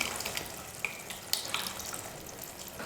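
Tamarind water pours into a pot of beans sambar, a soft, steady liquid splash with faint sizzling and a few small clinks, heard alone and fairly quiet.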